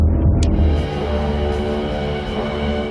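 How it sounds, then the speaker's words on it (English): A low, sustained film-score drone, the "drone of dread", with layered harmonics hangs steadily throughout, dark and unbroken, with no voices. "This sound is what TV Tropes calls the drone of dread"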